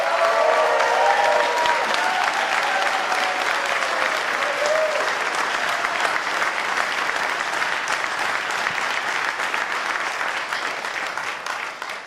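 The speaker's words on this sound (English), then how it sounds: "give these guys the hugest round of applause for helping us pull this together" A large debate audience in Auckland gives a long, full round of applause lasting about twelve seconds, dense and sustained, with a faint tone and crowd murmur early on before the clapping slowly thins toward the end.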